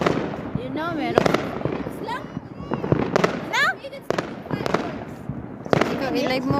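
Fireworks and firecrackers go off on New Year's Day: repeated sharp cracks and bursts, some with whistling rises, pop near and far in uneven clusters while people talk nearby.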